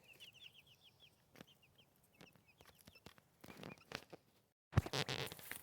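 Baby chicks peeping in a farmyard pen, a quick series of high, faint cheeps followed by scattered rustles and soft clucks, ending in a louder, close burst of noise.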